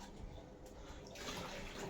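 Water splashes and pours in a bathroom, a faint close slosh that swells into a fuller rushing pour in the second half.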